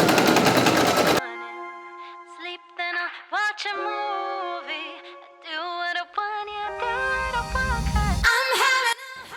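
A 4x4 hoop embroidery machine stitches out a design in fast, rhythmic bursts of whirring needle strokes, stopping and restarting in short runs, close and clear with no voices.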